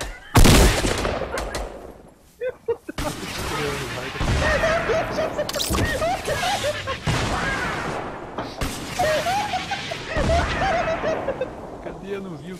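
Fortnite video game gunfire bursts loudly at the start, followed by scattered shots and game effects while excited players talk over the action throughout.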